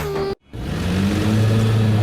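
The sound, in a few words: car stopping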